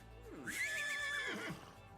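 A horse in The Sims video game gives one clear, high whinny lasting about a second and a half, moderately quiet and alone.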